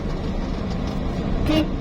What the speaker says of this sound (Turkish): Kornaya bakın arkadaşlar